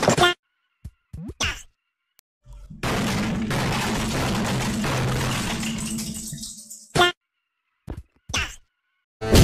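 Burst of sustained automatic gunfire from a double AK in the Chicken Gun game, a loud dense rattle lasting several seconds, bracketed by short sharp game effects and clicks before and after.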